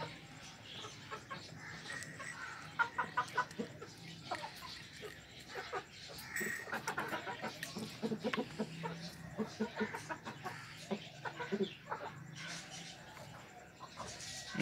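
An Aseel rooster with weak legs clucks repeatedly in short bursts at a moderate distance, with other faint farmyard noises in the background.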